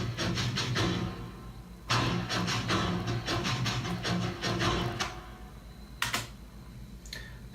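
A slowed-down hi-hat sample turned into hand percussion plays as a dense cluster of sharp, rapid taps with low rumbling thumps, recorded on an iPhone, moderately close and fairly quiet, with pauses between bursts.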